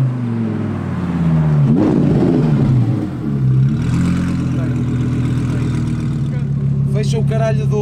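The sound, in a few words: car engine revving through loud exhaust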